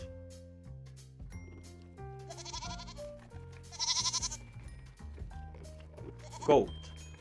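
A goat bleats once in a short wavering cry over a bright children's music track, standing out near the end as a brief loud call above the steady melody.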